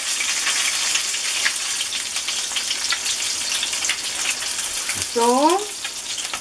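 Chicken frying in a pan gives a steady, close crackling sizzle throughout, with a short spoken word near the end.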